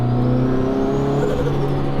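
A 700 hp big-turbo Audi S1 hot hatch engine accelerates, its close, loud, steady drone rising in pitch through strong harmonic tones, with a faint high turbo whine above and no talk.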